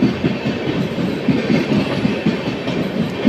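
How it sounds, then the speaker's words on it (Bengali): An Okha Dwarka Express made up of LHB coaches picks up speed on departure, its wheels beating a loud, close, rapid rhythmic clatter with a constant rumble. "আর LHB কোচ ছাড়ার সঙ্গে সঙ্গে স্পিড তুলে নিয়েছে।"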